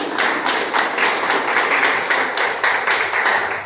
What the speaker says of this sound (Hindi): इन सब लोग के लिए हम चाहते हैं सामूहिक एक बार जोरदार ताली होनी चाहिए।